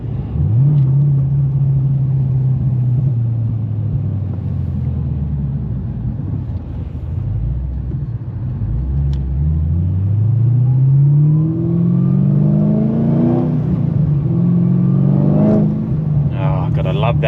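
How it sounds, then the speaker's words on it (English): A supercharged Holden VF Commodore is driven on a suburban road, its supercharger whine rising and falling in pitch through the gears, close and prominent over the engine and road noise. "Love that supercharger whine."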